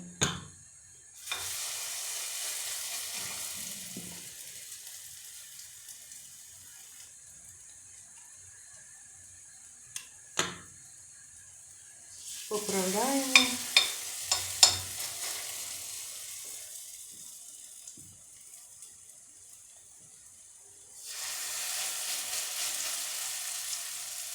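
Potato pancake batter sizzles and crackles in a hot pan, the frying hiss swelling as spoonfuls are added, with clinks of a spoon and quiet gaps between.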